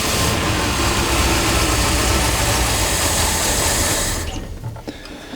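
A Land Rover 101 engine with cylinders 1, 2, 5 and 8 disconnected and a flooded plug runs loud and rough with steady low rumble, then cuts out near the end, leaving quieter noise.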